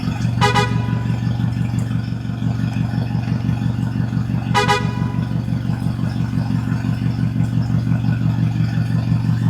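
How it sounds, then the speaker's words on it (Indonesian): A heavily loaded truck carrying stone and wood roars steadily on a long road through a forest. The loud, droning engine runs throughout, with two short horn toots above it. "Suara mesin yang meraung membuat perjalanan terasa semakin seru dan penuh semangat"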